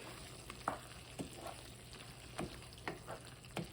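Sauce thickened with cornstarch slurry and seasoned with pepper simmers in a pan with a faint, steady sizzle, while a spoon scrapes and taps the pan at irregular moments.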